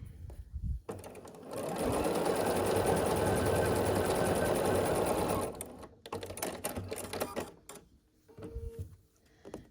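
A sewing machine stitches the last seams of a scrappy sampler quilt block, running in one steady, loud burst for about four seconds before stopping, followed by quieter handling clicks and rustles.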